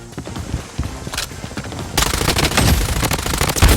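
Rapid bursts of gunfire in the shooter game Blood Strike, sparse at first and then a dense, loud barrage of overlapping shots for the second half.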